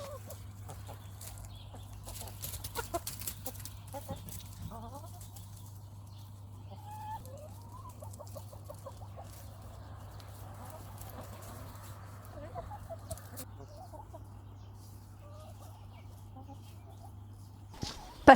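Chickens in a run pecking at a whole pumpkin, with soft scattered clucks and low calls over a steady low hum, faint and close, with no one talking.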